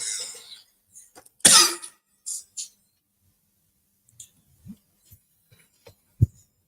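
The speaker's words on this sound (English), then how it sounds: "when I coughed, y'all heard it too" A single loud, harsh cough stands out near the start, followed by a few faint clicks and soft thumps in otherwise quiet surroundings, with no talking.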